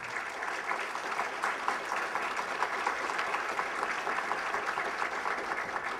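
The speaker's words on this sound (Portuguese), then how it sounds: "Eu peço então uma grande salva de palmas ao professor Vergniaud" A lecture audience at a school of advanced studies gives a long round of applause for Professor Vergnaud, steady, even crowd clapping filling the whole stretch with no talk.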